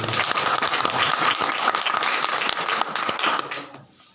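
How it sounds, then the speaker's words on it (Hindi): A church congregation at an Easter Sunday service claps together in loud, sustained applause that carries for a few seconds before tapering off at the end. "एक बार जोरदार तालियां बजाइए।"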